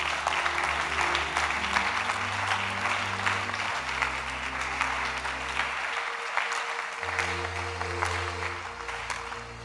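A church congregation at a prophetic service claps steadily together while organ-like sustained chords play underneath, a continuous, lively round of applause in a large room.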